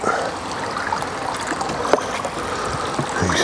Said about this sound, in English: So that washes all the muck into that trough.